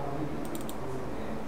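A computer keyboard gives a quick cluster of light clicks from a key press while a CorelDraw logo is made, quiet and short over faint room noise.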